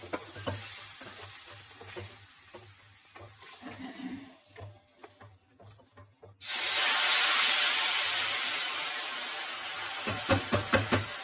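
Hot mustard oil erupts into a loud sustained sizzle as a tempering of cumin, bay leaf, asafoetida, cloves and dried red chillies hits the pan, following some quieter stirring and clinking, with popping spatters near the end.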